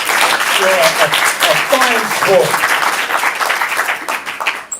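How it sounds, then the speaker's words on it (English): A comedy club audience applauds a stand-up guest, with loud, dense clapping that runs steadily for several seconds before tapering off, while a voice speaks over the start. "Give him a round of applause"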